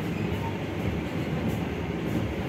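The Lodaya passenger train rolls past in Indonesia with a steady, broad rumble of wheels and carriages that holds at an even loudness throughout.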